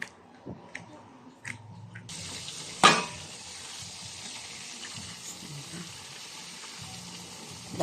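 Pork frying in a pan over high heat, a steady broadband sizzle starting abruptly and holding throughout, with a brief sharp clatter near the start and low kitchen rustling beneath; no talking.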